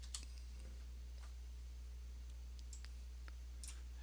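Computer mouse clicks and keyboard keystrokes on a Windows machine, a few sparse light taps and clicks over a low steady electrical hum.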